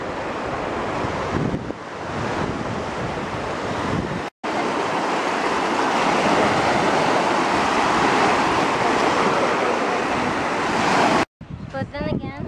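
Lake waves washing onto a shore at a lakeside with dunes, a steady loud rushing wash mixed with heavy wind buffeting the microphone, briefly cutting out twice.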